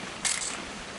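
A single short camera shutter click in a video game sounds crisp and close, then fades into quiet ambience.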